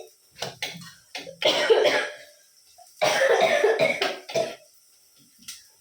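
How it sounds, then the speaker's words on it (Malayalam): A person coughs repeatedly in two harsh, close bursts, with brief pauses between them and a few smaller coughs trailing off. "നല്ല ചുമയാണ്"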